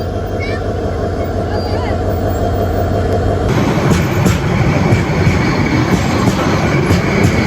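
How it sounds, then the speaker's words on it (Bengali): A meter gauge passenger train pulling out of Satkaniya station on the Cox's Bazar to Chattogram line, heard from on board: a steady loud engine drone, then rising wheel rumble and rattling as it gathers pace. "এদিকে আমাদের ট্রেনও ছেড়ে দিয়েছে"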